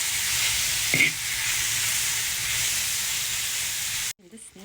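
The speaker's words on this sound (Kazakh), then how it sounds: "Қазір қазанға ең алдымен майын қуырып аламыз." Horse fat sizzles and spits steadily in a cauldron, a loud, even frying hiss with one brief clatter near the start, cutting off abruptly just before the end.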